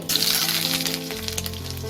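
Potato pieces hit hot oil already seasoned with a dried red chili and nigella seeds, giving a steady close sizzle and crackle of frying that holds loud and even for about two seconds, with no voices.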